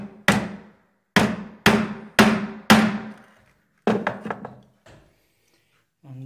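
Mallet blows on a chisel chopping a mortise in wood, five firm, evenly spaced knocks, then a quicker cluster of lighter taps, close and loud with no talk.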